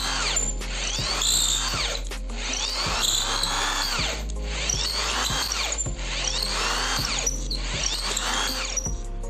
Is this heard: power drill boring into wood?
yes